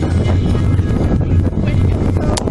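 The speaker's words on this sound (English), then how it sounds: "it's super windy" Strong wind buffets the microphone with a loud, continuous roar and gusty low rumbles.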